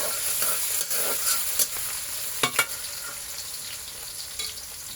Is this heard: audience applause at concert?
no